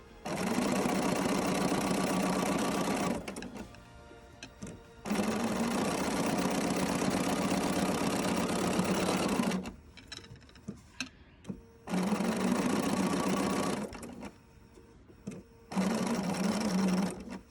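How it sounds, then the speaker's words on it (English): A sewing machine stitching rows of applique runs in four loud, fast, even bursts separated by short pauses filled with clicks and handling noises. "I can sew with one hand"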